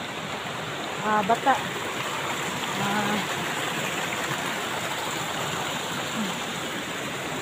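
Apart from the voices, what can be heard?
rain falling by a stream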